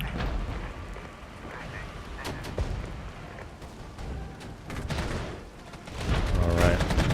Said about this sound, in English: There's a lot of artillery coming in.